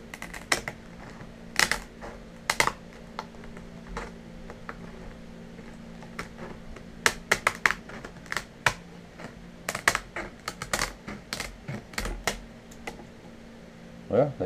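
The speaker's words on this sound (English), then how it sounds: "Now let's see if these EMS scissors are going to cut this." EMS scissors snipping through gar and catfish skin, giving a run of sharp, irregular clicks and crunches scattered across the stretch, fairly close and crisp, with no talking.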